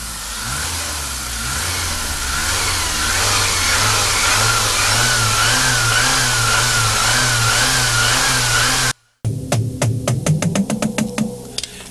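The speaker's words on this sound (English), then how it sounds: "Car running and obtaining chewing effects." A running car engine drones loudly with a pulsing, wavering tone for several seconds, cuts out abruptly, then returns as a rapid series of sharp knocking clicks that accelerate and fade.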